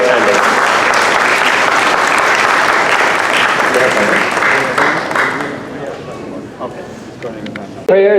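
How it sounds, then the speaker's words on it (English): Sustained applause from an audience of attendees at a mosque open day, loud and dense for several seconds before tapering off, with voices murmuring underneath. "so please give them all a round of applause, and yourselves a round of applause for attending."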